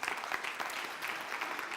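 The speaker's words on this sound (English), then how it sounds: "So David Trickey, give him a quick round of applause." An audience at a closing keynote gives speaker David Trickey a brief round of applause, a soft, steady patter of many hands clapping at a distance, faint and short.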